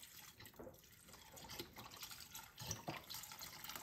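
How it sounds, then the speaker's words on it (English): Beef broth pours into a soup pot for tortellini sausage kale soup, giving a faint, continuous liquid splashing with a few brief clinks. "Now I'm gonna add in the rest of the beef broth."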